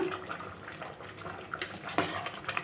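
A metal lid is set down on a cooking pot, giving a few faint clinks and one sharper clank over a soft bubbling background in a home kitchen.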